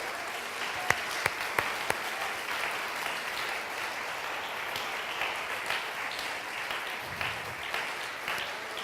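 Sustained applause from a church congregation during a sermon, a thick continuous rain of many hands clapping, with a few sharp louder claps near the start.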